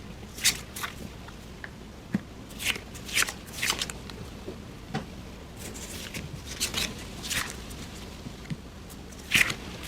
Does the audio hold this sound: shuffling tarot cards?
yes